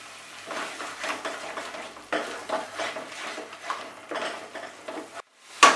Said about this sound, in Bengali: কাজু বাদাম দেওয়ার পর আমি এটাকে আরো 1 মিনিট ফ্রাই করব।